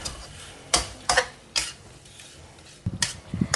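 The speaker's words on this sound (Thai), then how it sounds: "จากนั้นเราก็ใส่เนื้อหมูลงไปค่ะ จากนั้นก็คนสักเล็กน้อยค่ะ" A spoon clinks and scrapes against a pan as pork is stirred into simmering coconut-milk curry, giving a few separate sharp taps with quiet gaps between them, close and fairly loud.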